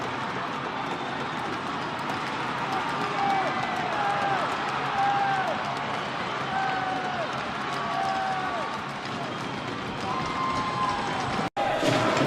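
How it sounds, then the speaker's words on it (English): Crowd at an ice hockey arena cheering and roaring during a fight in an EIHL game, a sustained loud din with whistles and shouts rising and falling across the whole stretch. "Stevenson gets the crowd going at Brayhead Arena."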